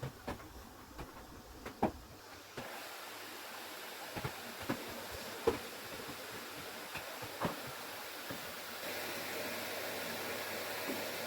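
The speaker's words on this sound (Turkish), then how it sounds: "Evet arkadaşlar şimdi odamı süpürüyorum." A vacuum cleaner runs steadily while a bedroom floor is swept, a continuous whir broken by sharp clicks and knocks as the nozzle bumps and picks up debris such as hair.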